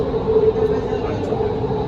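A steady rumbling drone of a driverless metro train in motion in Doha, Qatar, continuous and fairly loud, with a low hum throughout.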